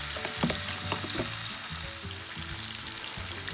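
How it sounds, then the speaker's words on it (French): Pieces of fish fry in a pan for Gabonese fish parcels with odika, a dense, steady sizzle close up with a few light knocks and stirs over the crackle. "faites bien dorer vos morceaux de poisson"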